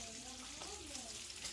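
Halved bacon strips fry in a pan with a faint, steady sizzle and crackle, while a quiet voice talks faintly over it.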